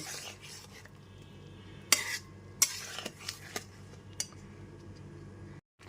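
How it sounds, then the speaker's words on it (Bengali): Potato and taro chunks being stirred with ground spices in a pan: irregular metal scrapes and a few sharp spoon clinks against the pan over a low, steady background, with no talking. "খুব ভালো মতো আলু আর কচুটা গুঁড়ো মশলার সাথে কষিয়ে নেব"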